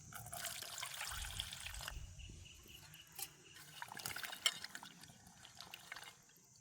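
Green chillies and an onion are washed in water, with faint splashing and trickling that fades in and out, quiet and close, and a few soft knocks.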